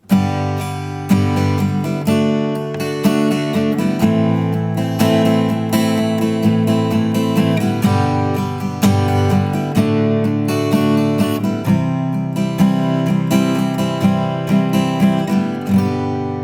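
An acoustic guitar strums a steady chord progression, bright, evenly rhythmic strokes with chord changes every few seconds, played close and alone.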